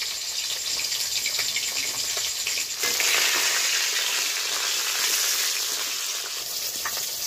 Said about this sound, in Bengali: সময় নিয়ে মাছগুলোকে লালচে কালার করে ভেজে নেব